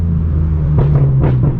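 Loud exhaust of a straight-piped BMW M4 F82 with a DCT gearbox: a steady low drone with two quick rises in roar as the gearbox shifts, heard close with no talk.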